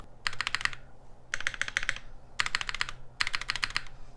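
Typing on an Element G67 custom keyboard with a stainless steel top and brass bottom: four quick bursts of crisp, clacky keystrokes spaced about a second apart, close up and alone.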